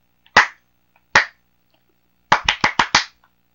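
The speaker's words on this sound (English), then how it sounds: "Yep, we get the clapping." Clapping in the Budokai Tenkaichi 2 fighting game: two separate sharp claps followed by a quick burst of five claps in a row, crisp and close with silence in between.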